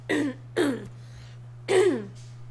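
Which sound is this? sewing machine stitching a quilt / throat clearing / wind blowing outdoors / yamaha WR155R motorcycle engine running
throat clearing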